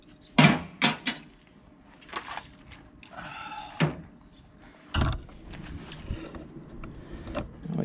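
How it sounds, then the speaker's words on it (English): The cab door of a Belarus 250AS tractor is shut during cab installation, giving several close metallic clunks and rattles with short pauses between them. "We can shut our door here and make sure everything still closes."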